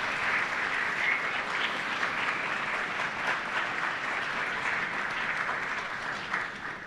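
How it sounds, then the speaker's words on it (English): Students give a steady, dense round of applause to guests in the balcony at a law college first-year welcoming ceremony, continuous and full throughout with no clear talk over it. "I would actually like a round of applause from the students for the folks on the balcony"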